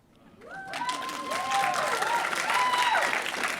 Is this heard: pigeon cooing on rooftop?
no